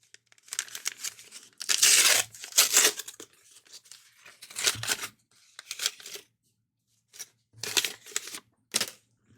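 Foil wrappers of 1990 Upper Deck baseball card packs are torn open in a string of sharp, crinkly rips and rustles, loud and close, with short quiet gaps between pulls.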